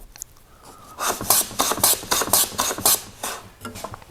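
Hand plane shaving wood across the grain on a shooting board, a rhythmic series of about eight close, loud rasping strokes following a quieter start.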